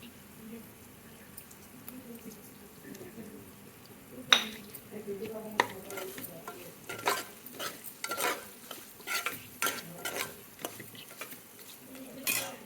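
Curry leaves hit hot oil in a pan with moong dal, a little chana dal, onions and green chillies. A low sizzle runs under repeated sharp clinks and scrapes of a spoon stirring, busier after the first few seconds.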